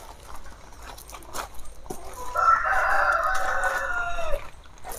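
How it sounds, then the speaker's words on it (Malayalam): A black country chicken (karinkozhi) crows once at moderate distance in an outdoor pen, a drawn-out call lasting about two seconds over faint background noise. "ഇത് കരിങ്കോഴിയാണ്, ഇതിൻ്റെ ഉള്ളിൽ നടക്കുന്നുണ്ട് കരിങ്കോഴി"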